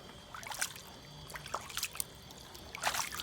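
Water trickles and splashes softly while a tortoise soaks in a shallow tub, with several faint, irregular dribbles and light splashes heard up close.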